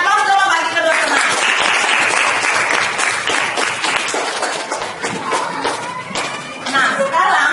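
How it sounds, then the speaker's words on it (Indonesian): Classroom applause as students clap for two classmates, a dense, steady patter of many hands filling most of the stretch, loud and close, with brief dips before it picks back up. "Berikan aplaus dulu bagi kedua teman."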